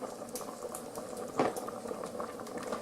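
Pilaf simmering in a closed multicooker pot, a soft steady bubbling and faint patter heard close up with no talk over it.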